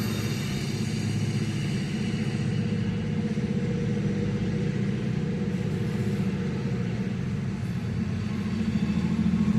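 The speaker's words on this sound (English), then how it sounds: "Listen how hard them engines are working." A pair of Norfolk Southern diesel locomotives working hard drones steadily and loudly, a deep continuous rumble under strain with no pauses or voices.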